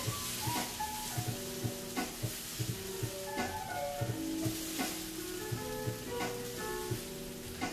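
Chicken browning in a pan for a Greek chicken salad gives off a quiet, continuous sizzle, punctuated by regular light clinks and scrapes of a utensil turning the pieces.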